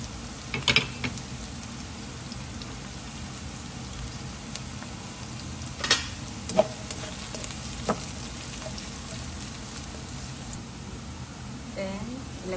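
Garlic sizzles steadily in a hot pan while being stirred, as part of making Chinese fried rice. A few louder scrapes and clinks from the stirring rise above the constant frying hiss.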